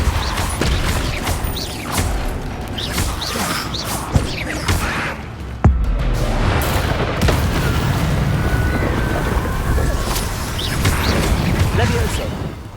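The Depulso spell is cast during Hogwarts game combat, giving a sharp booming impact with a crash near the middle amid continuous clattering, mechanical effects and other spell bursts.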